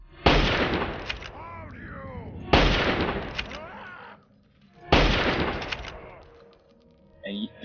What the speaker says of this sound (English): That guy over there doesn't notice that I just shot three holes through his friend.